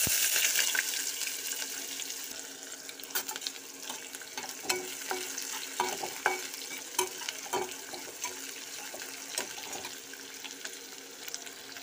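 Sliced onions frying in a pan for a vegetarian curry, with a soft continuous sizzle, light stirring clinks and scrapes at close range, and no talk.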